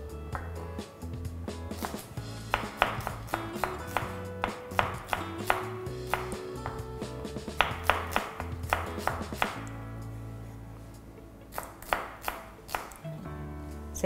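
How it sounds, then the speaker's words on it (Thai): Rapid rhythmic knife chopping on a cutting board as shallots are finely sliced, crisp close taps in quick bursts with short pauses between. "เราจะมาหั่นหอมแดงค่ะ ซอยให้ละเอียดนะคะ"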